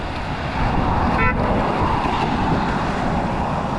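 A brief car horn toot sounds over steady road traffic noise, with vehicles rumbling past nearby.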